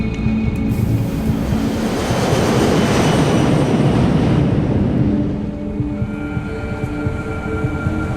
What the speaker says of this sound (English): Despite the winter conditions, the takeoff is routine.